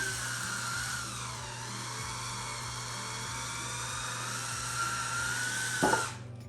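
An electric wine bottle opener whirs steadily with a high motor whine as it draws a cork, the pitch shifting slightly, then stops with a short click near the end; close and without talk.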